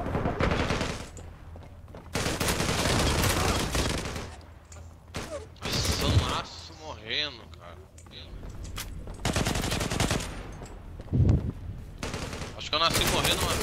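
Rapid automatic gunfire from the online shooter Zula comes in long sustained bursts with brief gaps between them, loud and dense, while players talk excitedly over the shooting.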